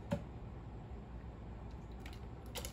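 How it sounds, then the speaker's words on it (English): Soft, cooked-down tomatoes pour from a stock pot into a hopper with a faint wet squish and a few drips, quiet against a low background hiss. "So I'm just pouring some of what's in the stock pot into here."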